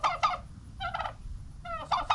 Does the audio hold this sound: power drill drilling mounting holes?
no